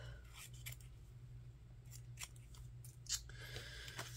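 Scissors snip through paper to cut postage stamps loose, a few quiet, close crisp snips and rustles spread over a soft low hum.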